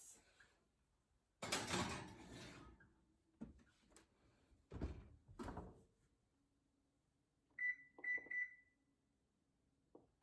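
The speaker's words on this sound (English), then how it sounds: "now I'm gonna put the taco bake into the oven" A taco bake going into a home kitchen oven: a loud clatter and thumps as the dish slides in and the oven door shuts, followed by a few short electronic beeps as the timer is set. No one speaks.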